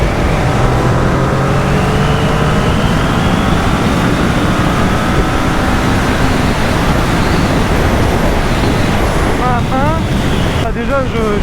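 Kawasaki ER6N motorcycle accelerating hard, with rising engine tones climbing through the gears under constant loud wind rush, a few quick upshifts near the end.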